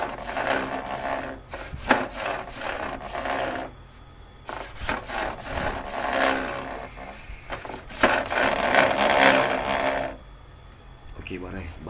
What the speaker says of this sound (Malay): Masalah dia ada bunyi geseran.